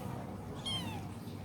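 A baby kitten left in a home's garage meows once, a short rising-and-falling cry close by, over a low, steady background hum.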